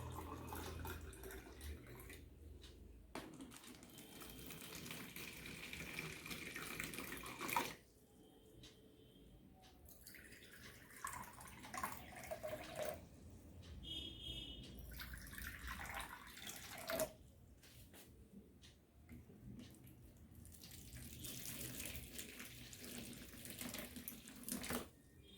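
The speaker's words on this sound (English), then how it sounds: "Now, I'm going to pour water into these containers." Water is poured from a vessel into several containers in a classroom demonstration, with steady trickling and splashing streams broken by short pauses between pours, quiet and close.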